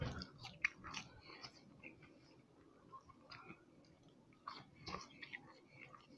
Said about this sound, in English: Try a French fry, let's see.